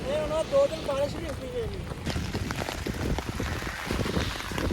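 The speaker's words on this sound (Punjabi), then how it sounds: "1 ਸਕਿੰਟ ਵੀ ਮੀਂਹ ਨਹੀਂ ਹਟਿਆ" Rain falls steadily in a storm in Italy with a soft, constant patter, while a voice talks briefly early on and then fades into the downpour.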